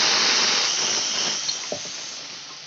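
Mustard seeds sputter in hot oil in a pan while making coriander chutney, giving a steady, close sizzling hiss that slowly fades, with a couple of small pops near the end.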